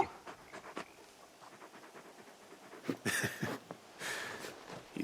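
Rhythmic panting from Torgal, a very large dog in Final Fantasy 16, close and fairly quiet, with quick breathy bursts growing louder toward the end.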